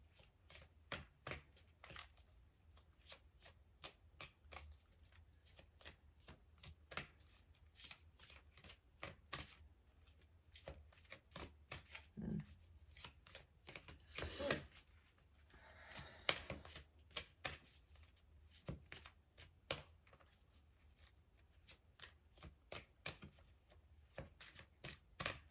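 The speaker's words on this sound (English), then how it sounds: "sometimes I'll just be shuffling because that's what it does for me" A deck of playing cards being shuffled and riffled repeatedly, close and fairly quiet, with crisp rapid bursts of card flutter and snaps recurring in an uneven rhythm throughout.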